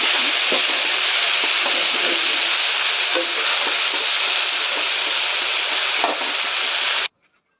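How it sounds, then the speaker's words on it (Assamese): Steady, loud sizzling of brinjal and potato frying in a pan, a dense crackle that runs unbroken for about seven seconds before cutting off abruptly. "বেঙেনা আৰু আলু ভাজি"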